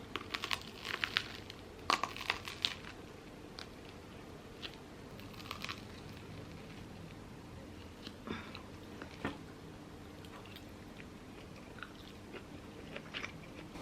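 Someone chews chocolate close up, with soft crunches and bites scattered irregularly over the quiet background, a few sharper at the start.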